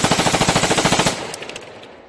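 A ghost gun fires a rapid, loud, close burst of about twenty evenly spaced shots lasting about a second, followed by a fading echo and a few faint clicks.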